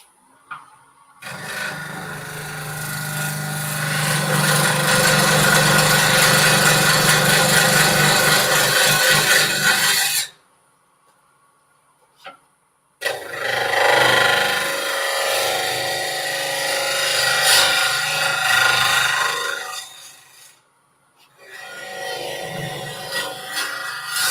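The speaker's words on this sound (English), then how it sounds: "what I'm doing now is kind of it's just scraping. I use the wing of this and I scrape it." Wood being scraped with a tool on a spinning lathe while woodturning, loud rasping passes of several seconds each, separated by short pauses of near silence.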